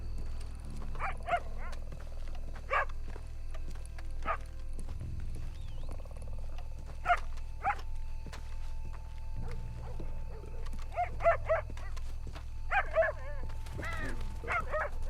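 A dog in Red Dead Redemption 2 gives several short barks and yips at mid distance over a low ambient game hum, in scattered bursts with quiet gaps between them.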